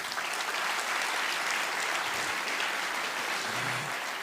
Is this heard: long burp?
no